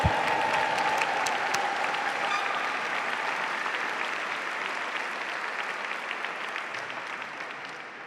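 A large audience at a Latino heritage celebration and awards ceremony applauds a music and dance group, sustained dense clapping from start to finish that slowly fades in intensity, with no talking over it.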